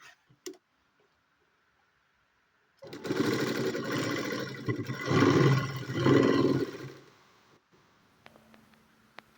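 A sewing machine runs double-stitching a uniform dress in bursts lasting several seconds, preceded by a few clicks and quiet, close and fairly loud with no talk.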